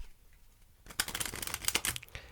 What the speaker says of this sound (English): give the deck a cut and shuffle